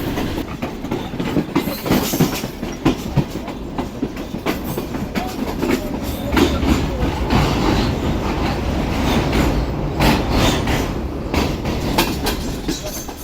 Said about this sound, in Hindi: 11:15 बजे हमारी ट्रेन अप्रोच बना रही है कोटरी जंक्शन रेलवे स्टेशन पर